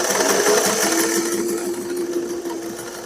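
A sewing machine chain-pieces half square triangle quilt blocks, running continuously in a fast, even whir with a steady mechanical hum, loud and close, with no voices.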